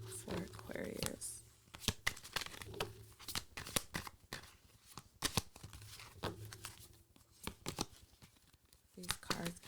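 A deck of tarot cards is shuffled close up in quick, repeated papery riffles and flicks at a soft level, while a voice talks quietly between the bursts.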